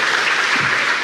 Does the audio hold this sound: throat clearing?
no